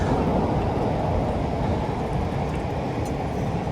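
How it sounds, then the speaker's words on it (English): A steady, heavy rumble of a passing Chicago Red Line train, loud and continuous throughout, with low-frequency roar and some wind buffeting on the microphone. "There goes a train."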